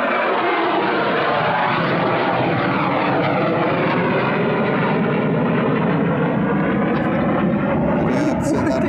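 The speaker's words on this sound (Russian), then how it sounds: "самолет над нами пролетает сейчас" A loud airplane roars overhead in a park in Surovikino, a broad, steady engine drone that fills the whole stretch without letup.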